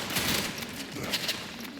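Rapid bursts of gunfire in a Roblox video game crackle in quick succession, dense and somewhat distant, with a faint voice briefly underneath.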